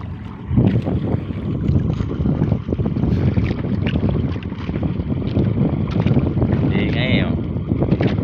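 A boat's engine drones steadily on open water, buffeted by heavy wind noise against the microphone, while people talk over it.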